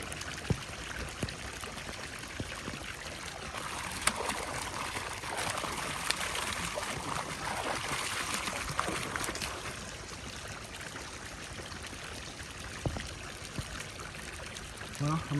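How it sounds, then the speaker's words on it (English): A submersible water pump forces a strong flow through a 2-inch hose, making a steady rushing gush with splashing and occasional sharp drips throughout. "Imagine how much power the motor in this thing has to have to be able to force that much water through a 2-inch hose."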